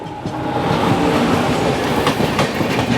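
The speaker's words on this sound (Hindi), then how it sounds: "क्रॉसिंग हावड़ा भुवनेश्वर जनशताब्दी" The Howrah-Bhubaneswar Jan Shatabdi Express passes close by on an Indian railway line, a loud continuous roar of coaches with rhythmic wheel clatter over the rail joints.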